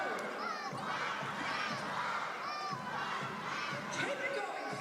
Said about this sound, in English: Crowd trying to get involved here at the Quaycentre in Sydney.